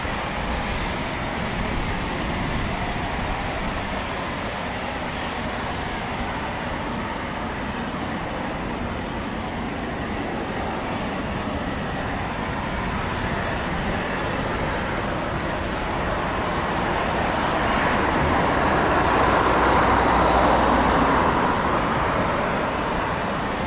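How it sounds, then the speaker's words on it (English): Eurofighter Typhoon FGR4 jets at RAF Coningsby give a continuous broad engine roar at a distance, steady throughout and swelling slightly near the end. "Another couple of more Typhoons"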